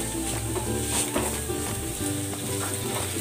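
Garlic and onion sizzling in cooking oil while making pork belly, a dense, close frying hiss with soft stirring scrapes running throughout, no talking.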